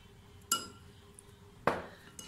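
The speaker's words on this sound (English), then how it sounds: "Now mix and blend this honey aloe vera gel." Two bright clinks of a utensil against a glass bowl, spaced about a second apart, while honey is stirred into aloe vera gel; quiet and close, otherwise near silence.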